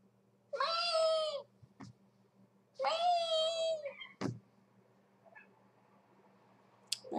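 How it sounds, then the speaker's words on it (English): A pet cat gives two long, drawn-out meows a couple of seconds apart, close and clear, followed by a few faint clicks and rustles in a quiet room. "Just meowing for no reason? Just meowing to the skies?"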